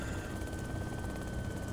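Helicopter in the DayZ video game, a steady rotor thump and engine roar that stays loud and close without a break. No one speaks.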